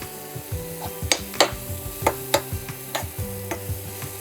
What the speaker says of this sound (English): we're going to put in there our leek. Going to stir that through